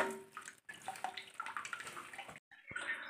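Water runs into a toilet cistern that had been leaking into the bowl, a close hissing trickle with brief gaps that fades as the fill valve shuts off near the end.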